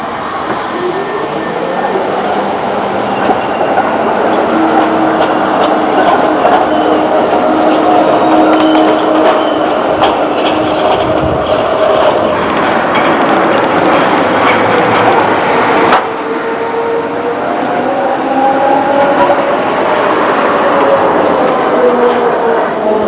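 A Stuttgart tram from 1986 rumbles past close by with a loud, continuous roar of wheels on rails, a steady grinding hum with faint squealing and clatter throughout, and a brief dip partway through.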